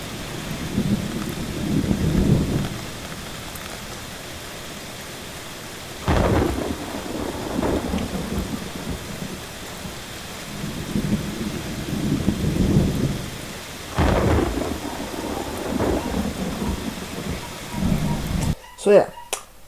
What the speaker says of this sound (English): thunder, lightning, waves hitting rocks, and basically rain for like a thunderstorm effect